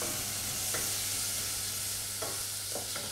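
Onion and garlic soften in a pot for a baby's bolognese, giving a steady close sizzle with a few short scraping stirs of a spoon against the pot, and no voices.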